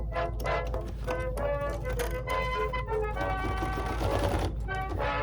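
A Bernina 7 Series sewing machine embroiders with metallic thread, its rapid steady needle stitching running loud and close for several seconds with slight shifts in pace.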